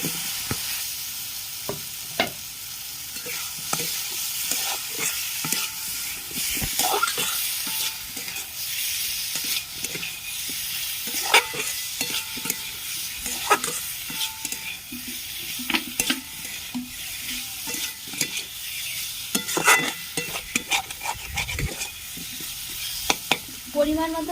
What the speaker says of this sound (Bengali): ভেজে রাখা আলুগুলো আমি দিয়ে দিচ্ছি